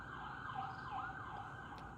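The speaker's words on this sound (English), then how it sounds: "Y'all hear the signs of the sirens, right?" Emergency vehicle sirens wail with a rising and falling tone, steady and moderately distant, holding throughout with no other sound on top.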